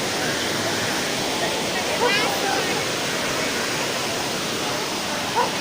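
Strong sea waves roll in at Sabang Beach in Baler, a constant loud wash of surf filling the scene, with faint barking and other brief sounds under it.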